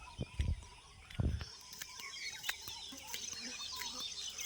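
Several birds call in the morning, with a few loud low thumps near the start, then steady chirps and short calls from different distances over a constant outdoor hiss.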